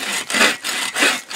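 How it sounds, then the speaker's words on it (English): An Agawa Boreal 24 folding saw cuts through wood in steady, rasping back-and-forth strokes, about four full passes, close and loud with no talking. "All right, let's saw some of this right here."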